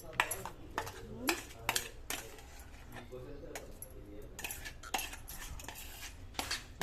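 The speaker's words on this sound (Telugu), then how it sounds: "దీన్ని ఇప్పుడు ముక్కల్లా కలిపేసుకుందాం" A spoon stirs menthi majjiga, a fenugreek buttermilk, in a metal vessel, giving close, irregular clinks and scrapes against the sides with brief louder knocks.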